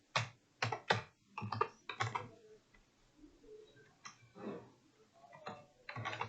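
Keys on a computer keyboard being typed in short bursts of clicks, close and fairly quiet, with brief pauses between groups of keystrokes and no talking.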